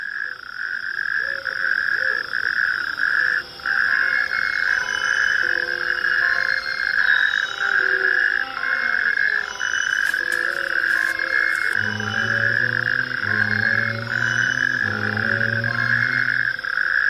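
A chorus of frogs in Portugal croaks steadily outdoors, with one dense, constant high call layered with lower rhythmic croaks that become stronger and more regular toward the end, loud and unbroken, with no talking.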